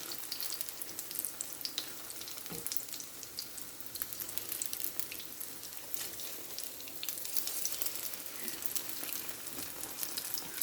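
Aloo bread sandwich frying in a hot pan, with a steady, close crackling sizzle of oil that holds evenly throughout and has scattered small pops and a few faint clinks.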